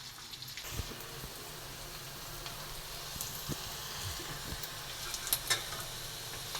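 Small onions sautéing in oil in a pan for fish curry, a steady soft sizzle with faint crackles and occasional stirring clinks, fairly quiet and without talk.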